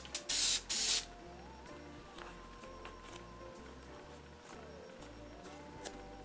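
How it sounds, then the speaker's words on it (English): Spray glue hisses from an aerosol can onto foam padding for a Mandalorian costume piece, two loud close bursts near the start followed by quiet room tone. "So I'll use some spray glue to hold it down."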